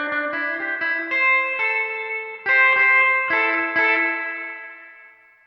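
Plucked electric guitar notes and chords run through a Hotone Verbera reverb pedal, each attack followed by a shimmering sustained tail that rings on and slowly decays at the end, clean and close with no talking.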